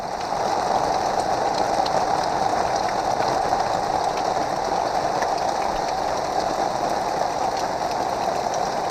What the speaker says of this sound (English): so that was the train